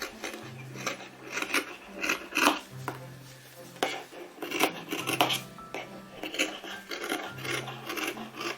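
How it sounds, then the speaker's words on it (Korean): Scissors cutting fleece fabric for a puppy vest, a series of close rasping snips and soft scraping strokes in irregular rhythm over quiet background music; no talking. "가위로 잘라줍니다."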